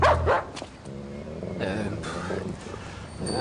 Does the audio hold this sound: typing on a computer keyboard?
no